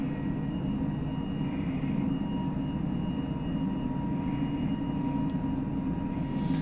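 Simulated Airbus A320 jet engines at climb power in Microsoft Flight Simulator, a steady broad rumbling drone with a faint high whine, continuous and alone.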